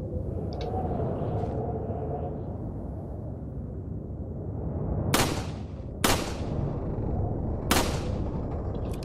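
Three sharp gunshots fired at crows in Resident Evil 4 crack out about a second apart, loud and close over a steady low rumbling ambience.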